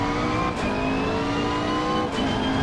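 A race car accelerates in Assetto Corsa Competizione, its engine a steady, loud, continuous drone that holds throughout, with brief dips where the gears shift, and no voices.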